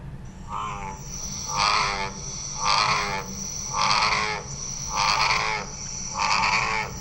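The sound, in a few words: bullfrog mating call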